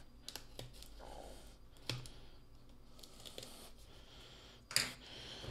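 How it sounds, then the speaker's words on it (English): A blade slicing through packing tape on a product box, heard as a few faint, sharp clicks and scrapes in a quiet room, with a louder snap near the end. "So I'm going to go ahead and cut the tape here."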